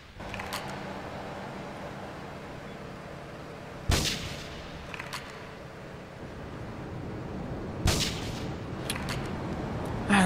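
Gunshots in the video game Grand Theft Auto III, two loud sharp blasts several seconds apart over a constant windy, surf-like ambient background, with no talking.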